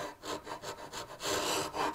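A broken piece of bandsaw blade, filed into a scraper, deepens a V-tool groove in wood for the reeds on Sheraton-style legs. It makes close, rhythmic rasping strokes, about eight back-and-forth scrapes in quick succession, with no voices.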